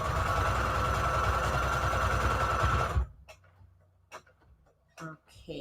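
A sewing machine stitches through soft fabric with a loud, dense, steady mechanical whir for about three seconds, then stops, leaving quiet handling noises and a few brief knocks.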